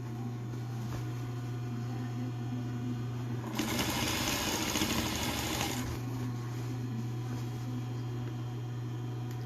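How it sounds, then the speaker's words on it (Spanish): A sewing machine stitches along the edge of a fish-shaped backpack, a steady mechanical whir that runs for about two seconds midway and then stops, set against a constant low electrical hum. "y cosemos por el borde, tratando de que quede en la misma costura que hicimos cuando estábamos fijando la boca"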